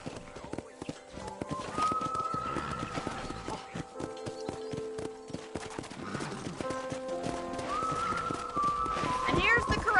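Horses in a ranch corral in the video game Red Dead Redemption, steady clip-clop of hooves with a couple of whinnies, heard under ongoing conversation.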